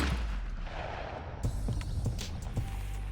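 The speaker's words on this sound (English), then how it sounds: "I've got the Winchester SX4. We're gonna shoot a few rounds with it" A Winchester SX4 shotgun fires outdoors at a skeet range, several sharp reports in quick succession, moderately distant with some echo.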